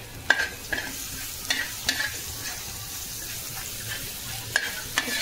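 Cumin, turmeric and coconut sizzle softly in hot oil while a spoon stirs and scrapes the pan now and then, producing several sharp clicks over the steady fry.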